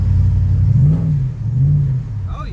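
A Ram truck's engine revs with the exhaust cutout closed, a muffled low rumble rising and falling in pitch across two swells, close and fairly loud, with no talk.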